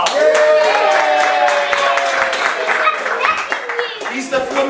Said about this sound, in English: Benjamin, a little round of applause.